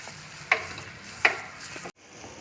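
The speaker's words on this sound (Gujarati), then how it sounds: "ખાંડ નાખી દીધી છે અને સરસ રીતે તેને હલાવી અને મિક્સ કરી લઈશું." Sugar is stirred into rava sheera in a pan, with two sharp spoon scrapes against the metal over a soft sizzle, close and fairly quiet, ending in a brief silence.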